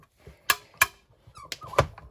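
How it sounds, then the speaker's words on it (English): Rollers of a die-cutting machine squeak when a metal die runs into them dead on while cutting a shaker card piece: four sharp, close squeaks in two pairs, with quiet gaps between. "Now that noise is because the die hit the rollers dead on instead of"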